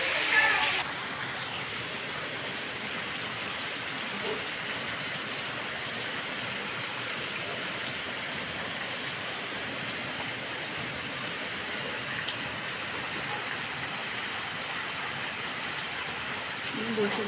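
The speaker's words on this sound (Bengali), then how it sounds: "এদিকে বৃষ্টি নেমে গেছে, ভীষণ জোরে বৃষ্টি হচ্ছে" Heavy rain pours down steadily and loudly, a dense unbroken hiss of drops close by with only slight swells in intensity throughout.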